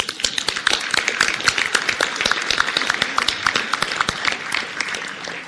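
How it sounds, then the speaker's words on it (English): Audience applause at a Rotary club meeting, dense steady clapping from a room full of members filling the whole stretch, fairly loud and close, with no talk over it. "everyone deserves a round of applause for that"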